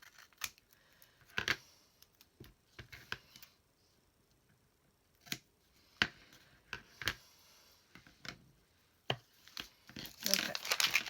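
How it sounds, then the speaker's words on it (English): Scissors trim plastic sheet protectors at close range, giving scattered crisp snips and crinkles of thin plastic at irregular intervals, with a person talking quietly between the cuts. "Trim it at an angle on the ends, and I'm also trimming it even with this little kind of like perforated area."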